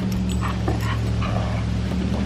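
Puppies in a playful standoff on steps by a pool, making short whimpers and yips over a steady low background hum, close and fairly clear.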